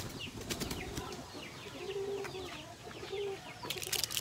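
A young rooster raised as a breeder clucks in short bursts, with brisk wing flaps at the start and end, close by over a noisy farmyard background.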